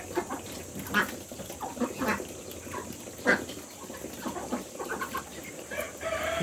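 Muscovy ducks at feeding time on a farm, producing a steady chorus of clucking, grunting and hissing calls, with scattered louder squawks over constant background noise and no talking.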